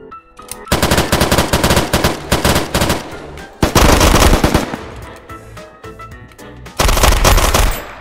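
Automatic gunfire in the shooter game Unturnov, loud rapid machine-gun bursts in three long volleys separated by brief pauses, close and dominant with no speech.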